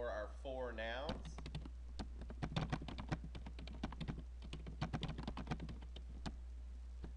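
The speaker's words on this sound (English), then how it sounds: "We're ready to type our phrase or our four nouns." Typing on a computer keyboard while working in Microsoft Word, a string of quiet, irregular key clicks close by, with a brief voice speaking at the very start.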